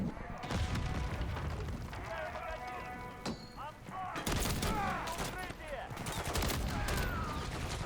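Rapid bursts of gunfire from a Call of Duty Modern Warfare III (2023) match, steady and continuous under someone talking over the game audio.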